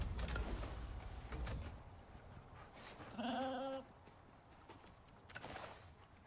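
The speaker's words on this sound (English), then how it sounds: "Did you want a sheep, CJ?" A sheep in the survival game Icarus gives a short, nasal bleat in the middle, set among muffled game noise and clatter, moderately loud.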